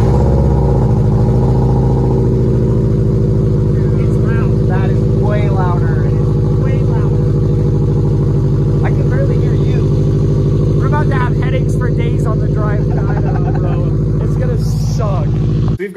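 Loud exhaust drone from a lowered, air-suspended stance car, a heavy steady rumble that stays strong throughout while people talk over it.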